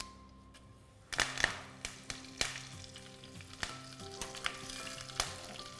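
Mustard seeds and curry leaves sizzle and crackle in hot tempering oil for an Udupi uppittu, a steady frying hiss broken by sharp pops and spits that start suddenly and keep going, close and fairly loud, with no talking.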